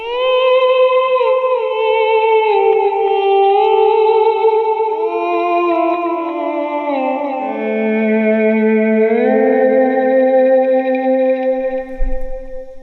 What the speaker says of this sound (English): a technique or kind of a combination of techniques that results in this cool kind of string-like violin-ish, cello-ish sound